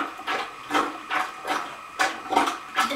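A plunger pumps a bathtub drain in six rhythmic, evenly spaced strokes, each a close, wet, gurgling squelch with brief quiet gaps between.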